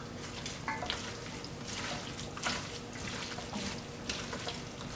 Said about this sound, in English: So now I'm going to take some pasta water and I'm just going to put a little bit of that in.